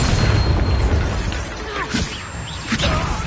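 Spell-blast explosions from the Bombarda charm in the Hogwarts Legacy video game: loud, dense booming bursts and whooshes filling the whole stretch, with several sharper impacts near the end.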